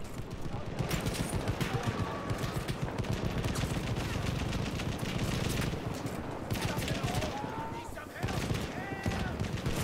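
Gunfire in the Battlefield 1 beta, with dense bursts of automatic weapons and scattered shots rattling continuously and loudly, amid battlefield noise and occasional game voices.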